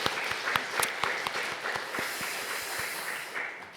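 Applause fills a Korean Sunday church service, a dense patter of many hands with distinct sharper claps standing out at an irregular beat, moderately loud and continuous throughout.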